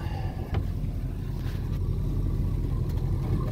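Yanmar diesel engine on a sailboat running at a little under 2,000 RPM after an exhaust elbow replacement, a steady loud low drone with constant vibration and faint wind, no voices.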